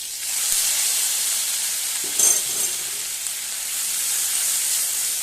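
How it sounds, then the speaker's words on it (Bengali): A ground paste of onion, garlic, ginger, green chili and a couple of shrimp sizzles steadily in hot oil in a home kitchen, a close, continuous frying hiss with a brief stirring scrape partway through. "এবার মাঝখানটা একটু ফাঁকা করে তেলের জায়গাটায় আমি বেটে রাখা মশলাগুলো দিয়ে দেবো"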